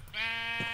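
Sheep bleat from Minecraft, a single drawn-out wavering baa that sounds loud and close, with no talking over it.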